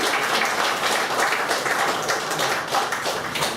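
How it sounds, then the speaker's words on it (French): Wedding guests at a reception in Montréal clap together in a brisk, steady round of applause that stays fairly loud and even from start to finish, with no clear talk on top. "On peut l'applaudir."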